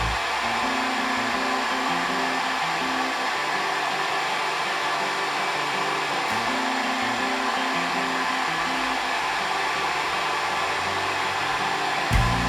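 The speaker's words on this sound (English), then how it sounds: "if you have a hair dryer on hand to heat it up for 5 to 10 seconds" A hair dryer blows continuously up close, a steady loud whoosh with a faint shifting hum underneath.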